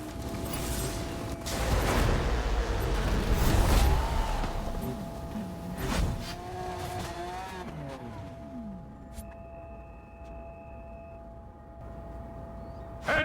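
A Lamborghini Centenario driven in a racing video game: engine revving and shifting pitch with brief mechanical creaks and tire noise, loudest early, settling to a steadier drone with electronic game tones near the end.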